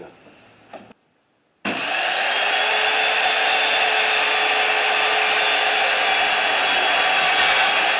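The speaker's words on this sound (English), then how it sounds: "I'm just going to use my miter saw." A miter saw cutting PVC pipe for a chicken waterer: a short burst of handling noise and a brief silence, then the motor spins up into a loud, sustained whine that holds steady to the end.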